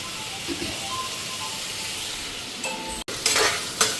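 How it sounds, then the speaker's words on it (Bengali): Potatoes fry in hot oil with black cumin and dry red chilli, making a constant close sizzle. Near the end, a brief cut is followed by a sharper burst of scraping or stirring. "সকালে রুটি খাওয়ার জন্য আলু ভাজা বসাইছি কালো জিরা শুকনো লঙ্কা সম্বাদ দিয়া"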